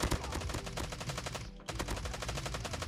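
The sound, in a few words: LMG machine gun firing in Call of Duty Mobile video game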